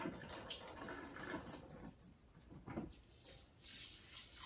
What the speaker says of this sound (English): I am actually rinsing some rice off